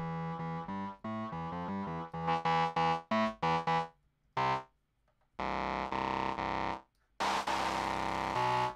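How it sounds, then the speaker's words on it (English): Bursts of heavily distorted, buzzy synth or guitar tones play in choppy phrases, separated by brief silences, loud and gritty. "Distortion."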